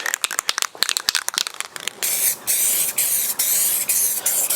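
Spray paint going onto a 1986 Monte Carlo SS: first a run of short rattling taps and brief bursts, then a loud continuous close hiss of spraying broken by a few quick pauses.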